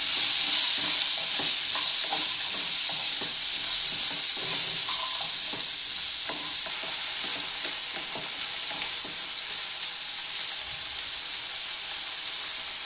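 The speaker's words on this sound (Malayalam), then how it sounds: "അതിനുശേഷം ബീൻസും ക്യാരറ്റും ഇടാം. ഒന്ന് മിക്സ് ചെയ്യാം." Beans and carrots are stirred in a hot pan, giving a steady broadband sizzle with frequent scraping stir strokes throughout, close and fairly loud, with no voices.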